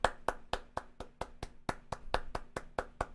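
One person clapping alone, about a dozen crisp, evenly spaced claps in a steady rhythm, close and fairly loud, during a live reaction to the final episodes of Steins;Gate.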